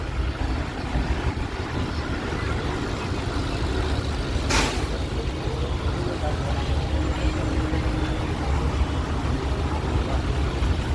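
Busy city traffic at a signal with vehicles and auto-rickshaws, a constant low engine rumble and road noise with one brief sharp hiss midway, and a voice talking faintly beneath.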